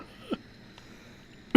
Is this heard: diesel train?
no